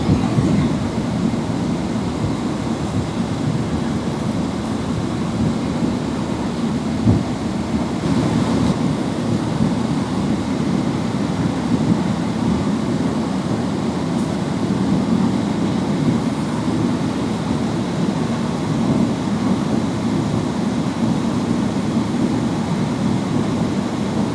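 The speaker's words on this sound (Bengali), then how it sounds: "বিমানের ইঞ্জিনের গর্জন, ধীরে ধীরে গতি বাড়ানো," Emirates airliner engines roar in a steady, loud, broadband rush as the plane accelerates down the runway for takeoff, a continuous powerful drone with no voices.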